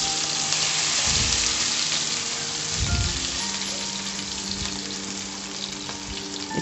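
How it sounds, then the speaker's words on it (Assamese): Onions frying in plenty of hot oil in a kadai, a steady loud sizzle and crackle throughout with a few low thumps of the pan being handled, no voices. "তেলখিনি এতিয়া গৰম হৈছে। আমি এই ৰৈ যোৱা পিঁয়াজখিনি তাত দি দিলোঁ।"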